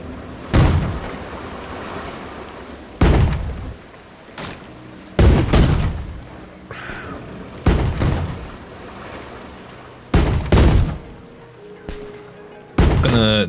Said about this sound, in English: Have a few cannons, right?